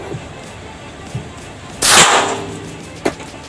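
A single sharp shot from a Remington 700 rifle cracks loudly and close, with a brief echoing tail, followed by a small click.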